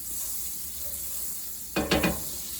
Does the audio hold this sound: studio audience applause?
no